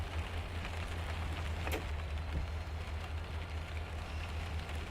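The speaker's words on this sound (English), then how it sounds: "other than the rain, I can't hear much of the locomotive here" Steady rain in the Run 8 train simulator game, set in a Southern California rail yard, a dense continuous hiss over a low rumble with almost no locomotive noise, unbroken for the whole stretch.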